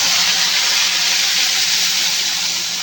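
Masala paste hits hot oil with black cumin seeds in a pan, a loud, close, unbroken hiss of sizzling and steam.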